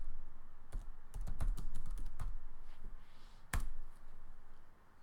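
Typing on a computer keyboard while entering a search, with irregular bursts of sharp key clicks and a few louder isolated taps, fairly close and alone without talk.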